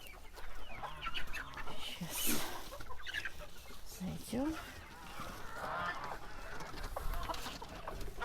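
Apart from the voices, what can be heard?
chickens clucking in a coop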